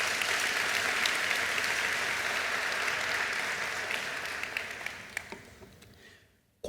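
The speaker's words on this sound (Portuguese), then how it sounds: "Aplauda o Senhor então com toda a sua força." A church congregation applauds with full force, a steady roar of many hands clapping that holds evenly, then thins into scattered claps and fades to near silence.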